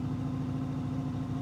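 Honda VFR800 VTEC motorcycle engine idling close by, a steady low pulsing throb with an even rhythm, heard alone.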